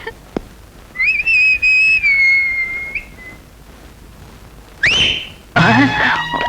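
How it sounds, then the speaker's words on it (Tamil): A person whistles a sustained tune for about two seconds, then gives a short rising whistle followed by another warbling whistled burst, all close and clear in a quiet room. "என்னடா விசில் விசில் எல்லாம் பொறி பறக்குது?"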